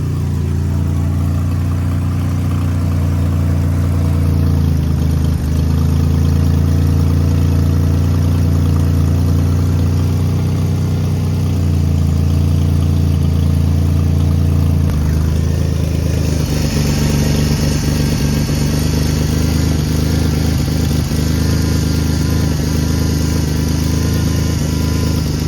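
A 1996-1999 Ford Taurus engine runs at a steady idle after a transmission cooler install, a loud, continuous low drone with a slight change in tone partway through, and no talking.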